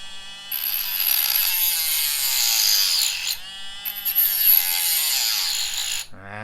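An angle grinder cuts into the casing of an original Xiaomi 90W charger, giving a loud, continuous high-pitched whine with a brief dip midway before stopping abruptly near the end.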